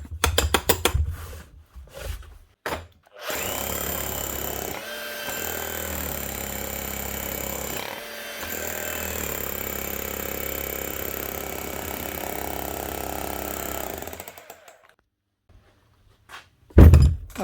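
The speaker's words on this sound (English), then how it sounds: "One old Hitachi DH50MR rotary hammer." An old Hitachi DH50MR rotary hammer, repaired after leaking grease and a loose head, runs a chisel in a sustained loud mechanical hammering burst of about ten seconds, with short start-stop bursts before it and thumps after.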